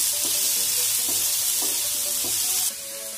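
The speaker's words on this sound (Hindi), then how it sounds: "तो यहाँ एक पैन में मैंने तेल गर्म कर लिया है, इसमें हम अपनी प्याज की फिलिंग डाल देंगे और इसे हल्का सॉफ्ट होने तक पका लेंगे।" Onion samosa filling frying in hot oil in a pan, a loud continuous hiss of sizzling with a few soft rhythmic stirring knocks underneath, close up and uninterrupted, easing slightly near the end.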